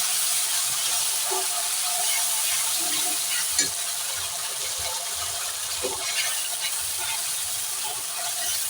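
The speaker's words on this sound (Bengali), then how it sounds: "ভাজা হয়ে গেছে এবার দেব আদা রসুন আর হচ্ছে পেঁয়াজ কাঁচা লঙ্কার পেস্টটা" Ginger, garlic, onion and green chilli paste fries in oil in a pan for a Bengali doi katla fish curry, giving a steady broadband sizzle with a few soft stirring clinks, no voices.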